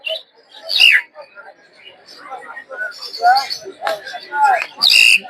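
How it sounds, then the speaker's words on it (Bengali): A talking myna calls at a busy livestock and bird market in Narsingdi, Bangladesh, giving bright, sharp chirps and whistles in repeated bursts over general market chatter and other bird calls. "এখানে দেখতে পাচ্ছেন একটা হচ্ছে ময়না পাখি, কথা বলা ময়না পাখি"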